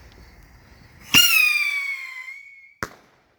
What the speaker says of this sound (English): we have Silver Streak Rockets by Kingbird. Little bottle rockets.